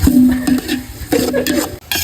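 Village-style country chicken biryani stirred in a pot over a wood fire, with ginger-garlic paste and mint added; a spoon scrapes and clatters in short repeated strokes against the metal over a sizzling fry, close and loud.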